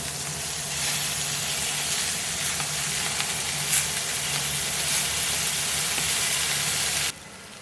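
Scallops sear in a hot pan with a loud, close, continuous sizzle that holds steady for about seven seconds before dropping off abruptly near the end.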